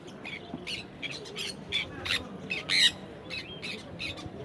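Caged birds squawking at the Dakshineswar pet bird market, a burst of sharp, raspy, overlapping calls repeating quickly, fairly close, over a low murmuring background.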